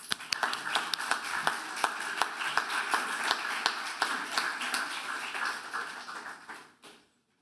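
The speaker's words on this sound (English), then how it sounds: "Please welcome her with a warm round of applause." A small audience at a graduation ceremony claps to welcome a poet, with individual sharp claps standing out over the steady patter before it fades out abruptly near the end.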